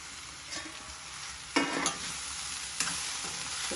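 Half a kilo of ridge gourd curry stirred in an oiled pan, a soft continuous sizzle with a couple of brief scraping clanks from the spoon, close by.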